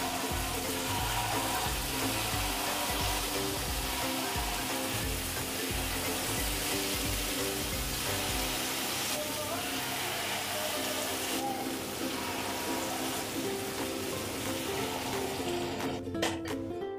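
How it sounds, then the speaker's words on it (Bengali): Jackfruit oil cakes (pitha) fry in hot oil with a dense, steady hiss and bubbling that fills the whole stretch, with faint kitchen knocks near the end. "আমাদের তেলটা গরম হয়ে গেছে, এখন আমরা পিঠাগুলো দিয়ে দিলাম"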